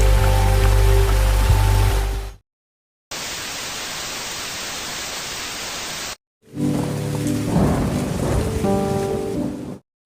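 Heavy rain pours down through a film scene, a loud steady hiss of rainfall with rumbling thunder and low tones, cutting off briefly twice between sections.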